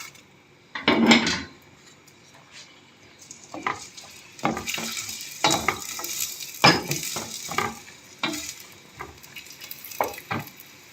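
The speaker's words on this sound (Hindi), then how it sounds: "इसको मैं हल्का सा फ्राई कर लूँगी।" Onion and garlic frying lightly in a pan for kadhi pakora, with intermittent scrapes and clatters of stirring over a quiet background sizzle, close by.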